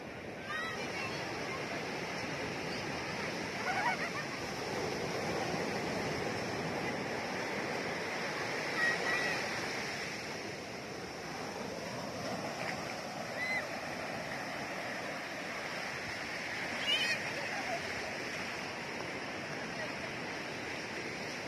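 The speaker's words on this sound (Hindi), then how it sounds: "क्या लहरें आ रही हैं।" Ocean surf at Calangute Beach, Goa, rolls and washes continuously, a steady broadband rush with a few swells rising and falling, heard up close with no talk.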